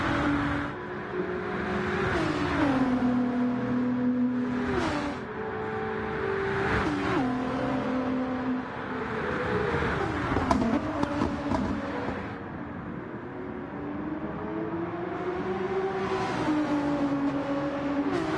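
A DC Team Porsche and a Race Asylum Nissan GTR race wheel to wheel in the Bathurst 12 Hour at Mount Panorama, engines roaring and shifting pitch through gear changes and revs over a sustained, loud track din.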